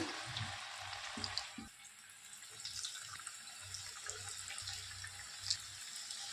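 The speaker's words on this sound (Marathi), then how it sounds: "तेल तापायला लागले आपण भाजून घेऊया चकली" Chakli dough frying in hot oil makes a steady bright sizzle that continues throughout at close range, with a few soft low knocks early on and no speech.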